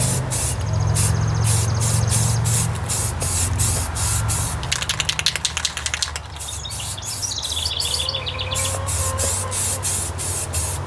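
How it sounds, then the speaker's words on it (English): A spray can hisses steadily as silver metallic-fleck paint is applied to a Toyota Corolla front fender in light coats, a loud continuous close spray with brief rattling clicks partway through and faint bird chirps in the background. "I'm really nervous to spray the silver though, because it's got that metal fleck in it."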